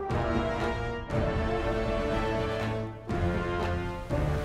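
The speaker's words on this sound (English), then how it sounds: "He is playing the awesome medieval serpent." A copy of an 1800-era serpent, a sycamore wood wind instrument in two halves, plays sustained, buzzy low notes in separate phrases with short breaks between them, close and full.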